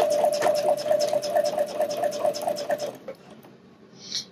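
A sewing machine stitches a bra seam in a fast, steady rhythmic whir of close, repeated needle strokes for about three seconds, then stops, leaving quiet with a faint hiss at the end.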